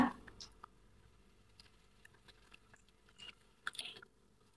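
An unfamiliar soft-fleshed fruit with seeds like lime pips is bitten and chewed close by, with quiet, scattered crunches and wet chewing clicks over a hushed background and a slightly louder burst near the end.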